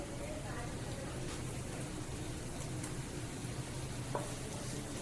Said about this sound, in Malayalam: ചെറിയ ഉള്ളി നന്നായി വറ്റി കൊടുക്കുക കുറച്ച് കരിവേപ്പിലയും